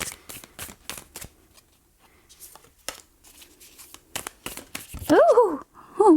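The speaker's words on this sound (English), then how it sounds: "let me have one more shuffle," Deck of oracle cards being shuffled in quick bursts of riffling and flicking, close and crisp, with pauses between bursts and a voice speaking near the end.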